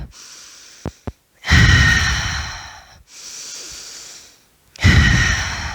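Heavy, forceful breaths during a HIIT and stretch workout, a few short sharp sniffs followed by long loud exhales and inhales in slow alternation, close to the listener with no talk.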